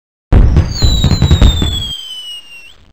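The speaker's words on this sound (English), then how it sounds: "The sky is filled with bloaters, detonating in the air." Bloaters burst in the air in the 1993 Living Books PC game New Kid on the Block, a loud cartoon volley of rapid popping blasts mixed with whistling rocket tones that fade out.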